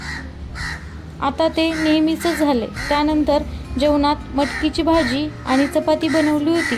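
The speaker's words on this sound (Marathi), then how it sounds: "हा कावळा इतका आवाज करतो" A crow caws loudly and repeatedly nearby in a series of harsh calls, heard under and between a person talking.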